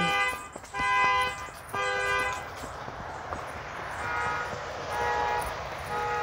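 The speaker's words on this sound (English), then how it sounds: "that place over there that's honking." Vehicle horns honk from a nearby spot, long sustained blasts coming in two or three bursts before trailing into a steady traffic hum with fainter tones.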